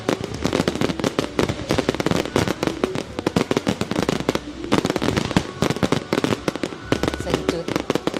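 Fireworks display at a Lao national day celebration marking 50 years, fired from many launch points, with dense, continuous crackling and booming bursts, loud and close throughout, crowd voices mixed in.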